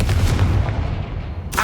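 A Confringo fire spell blast booms in the Hogwarts Legacy video game, a loud, dense explosive burst rumbling deep throughout, with a sharp bright crack near the end.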